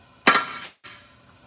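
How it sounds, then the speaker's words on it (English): Metal pins are hammered into place with two sharp, ringing strikes about half a second apart, the first louder and longer, heard close up with no talk. "And you hammer them in."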